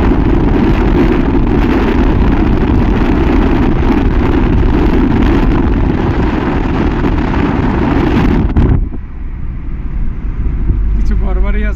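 Cold wind blows across a hilltop in a hilly tourist area, roaring hard against the microphone for most of the time before dropping away abruptly near the end, with a voice speaking under the rumble.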